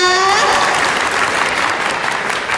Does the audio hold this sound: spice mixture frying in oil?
no